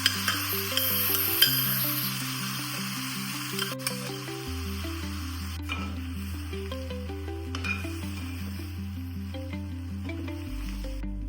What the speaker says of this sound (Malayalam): നമുക്ക് വേവിച്ച് വെച്ചിരിക്കുന്ന ചെറുപയർ പരിപ്പ് ഇതിലേക്ക് ഇട്ട് കൊടുക്കാം.